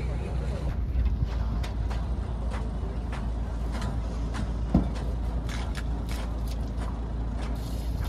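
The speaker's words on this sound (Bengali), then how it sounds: "এই বোট এখন ছাড়লো" Boat pulling away on a Sundarbans river trip, a steady low engine drone with wind buffeting the microphone and one brief thump midway, voices talking faintly over it.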